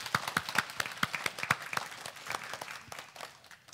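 A church congregation applauds its cleaning and welcome volunteers at a Sunday service, with scattered, uneven hand claps of modest size that thin out and fade toward the end, and no voices over them.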